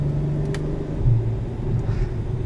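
A 2021 Acura TLX Type S driven in sport mode gives a steady, close low engine rumble inside the cabin, with a slight change in tone around the middle that may be a gear shift.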